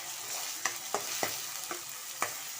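Paste being sautéed in a pan for egg fried rice, a steady broad sizzle broken by about five sharp scrapes of a spatula against the pan at uneven intervals, close and alone with no voices.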